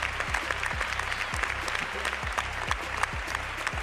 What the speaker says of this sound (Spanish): Los asistentes se fundieron en un aplauso solidario con el productor